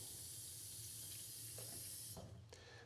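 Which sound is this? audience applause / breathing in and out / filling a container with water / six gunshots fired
filling a container with water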